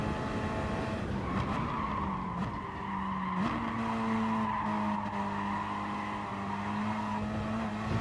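Gr.3 race cars on Dragon Trail Gardens in Gran Turismo Sport scream along with sustained engine tones that shift pitch through gear changes, with tires squealing and skidding as they corner, continuous and close.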